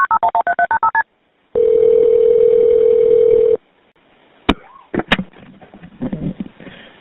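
A phone keypad dials a short rapid run of tones, followed by a long steady tone and then clicks and faint line noise.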